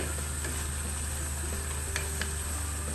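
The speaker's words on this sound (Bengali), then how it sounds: "এক মিনিটের মতো নাড়াচাড়া দিব" Water lily stems and prawns stirred in a pan over raised heat, a steady close sizzle with a few faint scrapes of a spoon, no talking.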